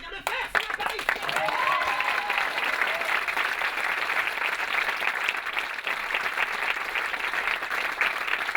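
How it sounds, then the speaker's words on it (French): Audience applause for the stage director at a French theatre show, steady dense clapping from a crowd lasting several seconds, with a brief voice audible early on. "Je voudrais encore une fois que vous applaudissiez François Lys"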